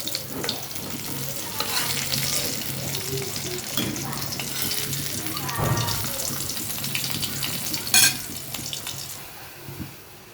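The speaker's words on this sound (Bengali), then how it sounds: "মাছ ভাজা হয়ে গেছে এখন আমি নামিয়ে নিব এক এক করে" Koi fish frying in hot oil gives a steady, close crackling sizzle that holds for the whole stretch, with a few louder pops and a brief sharp clink near the end. No one speaks.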